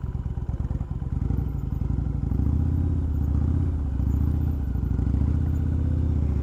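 Motorcycle making a U-turn on a neighborhood street, its engine thumping loud and close in a low rumble that swells as it revs through the turn.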